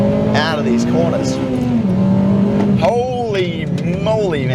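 A Honda Civic Type R FD2's high-revving engine pulls hard out of corners, its tone climbing and dropping through gear changes, heard from inside the car as someone talks over it.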